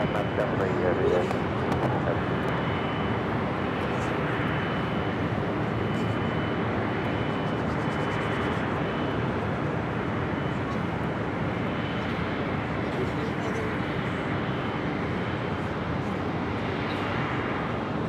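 Iberia heavy airliner taking off from runway 24 left at LAX on New Year's Eve, a steady, broad jet roar that holds for the whole stretch while radio voices talk over it.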